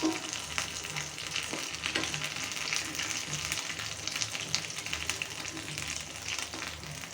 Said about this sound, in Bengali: এটা কিন্তু অবশ্যই ডুবো তেলে ভাজতে হবে